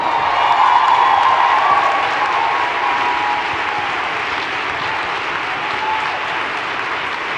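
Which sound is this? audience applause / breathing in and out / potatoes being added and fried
audience applause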